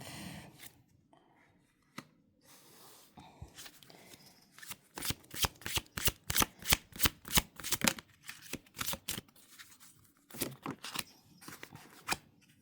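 Deck of oracle cards being shuffled by hand close by, with soft handling rustles, then a series of rapid riffling card slaps in bursts, fairly quiet overall.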